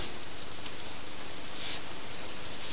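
Steady rain pours down continuously, a dense even hiss of falling water with no break, close and fairly loud, with no other sounds over it.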